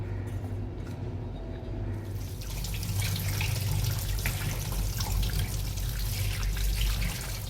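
Tap water runs steadily over pomfret fish being washed in a sink. It starts as light trickling and drips, then becomes a loud, continuous rush.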